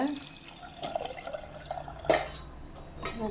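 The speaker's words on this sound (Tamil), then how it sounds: "இப்போ வந்து தண்ணி சேர்த்துக்கலாங்க" Water splashing and pouring in short bursts into a pot of ponnanganni greens curry, with faint kitchen clatter around it.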